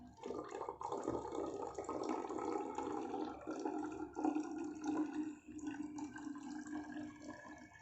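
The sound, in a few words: water being poured in for a rubber elasticity experiment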